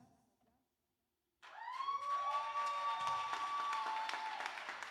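Audience applause at a Fête de la Musique 2025 music festival gathering breaks out suddenly after a brief silence: steady, loud clapping that fills the space, mixed with cheers or whistles, and it continues without a break to the end.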